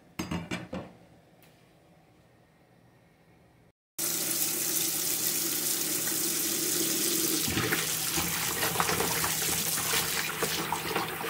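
Tap water runs steadily into a sink while silver scabbard fish are rinsed, a continuous close splashing stream with light clinks, starting after a brief quieter stretch of handling noise.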